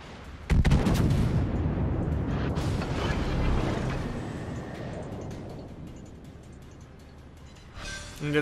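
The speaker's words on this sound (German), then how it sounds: "endlich fliegen die Granaten so, wie er es braucht" Naval artillery shells fire in the World of Warships battleship game, a heavy booming salvo that erupts suddenly and rumbles on loudly, fading slowly before a second blast at the end.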